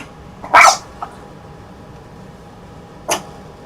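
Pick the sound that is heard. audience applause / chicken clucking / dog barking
dog barking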